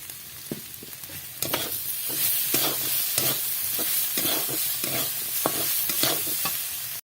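A whole onion, cut into quarters, drops into spices already fried in hot oil and sizzles loudly, with a steady crackling hiss and scattered stirring scrapes close by.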